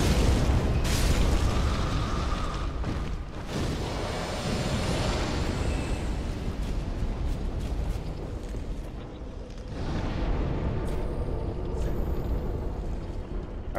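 Fire attacks in Dark Souls 3 erupt in repeated booming, roaring bursts layered over constant combat rumble, with sharp impacts punctuating a loud, dense battle that swells and dips over several seconds.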